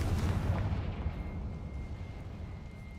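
A Confringo blasting spell going off in Hogwarts Legacy, a deep rumbling explosive boom that rolls on and slowly fades, loud and close with no talking.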